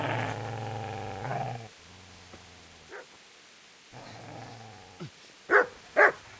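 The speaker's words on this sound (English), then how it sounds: "Get away, you mutt!" Dog growling and barking in the medieval video game Kingdom Come: Deliverance, a sustained low growl followed by a few sharp, loud barks near the end, with quieter yips between.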